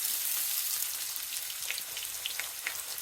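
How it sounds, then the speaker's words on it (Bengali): Chopped onion hisses in hot oil as a dense, even, high sizzle close by, steady throughout and without any voices. "তেল গরম হয়ে গিয়েছে, দিয়ে দিব পেঁয়াজ কুচি।"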